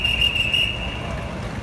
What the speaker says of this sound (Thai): ตำรวจบางนายใช้วิธีเป่านกหวีดไล่ด้วย